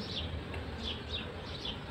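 Honeybees buzzing at an opened hive, a steady drone with a few brief higher whines of bees flying close past, under faint background noise.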